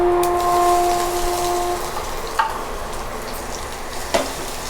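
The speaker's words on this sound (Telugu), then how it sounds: "ఇవన్నీ బాగా వేగించుకోవాలండి." Mustard seeds, cumin and coarsely crushed garlic fry in hot oil in a home kitchen. A steady, soft sizzle continues throughout, with a couple of faint clinks and a brief tone near the start.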